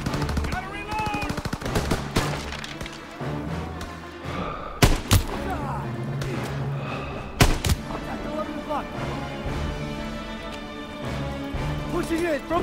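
Rapid machine-gun bursts and scattered rifle shots ring out in a World War II battle in Call of Duty WW2, with sharp louder cracks among steady distant fire, under shouted voices.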